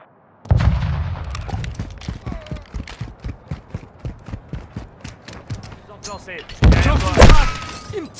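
Gunfire aimed at the player in Call of Duty MW2, a rapid string of sharp close shots with heavy impacts, rising to a loud burst near the end, under spoken voices.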